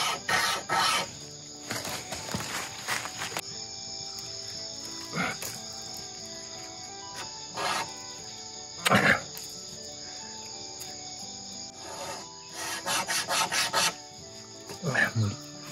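Cheap 100-yen shop wire saw cutting through a hard material, giving short bursts of rasping, filing strokes separated by pauses, close and fairly faint, with occasional quiet voices nearby.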